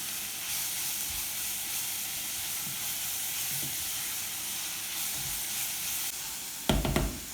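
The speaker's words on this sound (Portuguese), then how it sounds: "vamos aqui mexer até refogar esse cogumelo, ele vai ficar bem hidratadinho aqui, vai começar a soltar uma aguinha" Mushrooms sautéing in a pan for a vegan chickpea roast, a steady soft sizzle and hiss running throughout, with a brief clatter of stirring near the end.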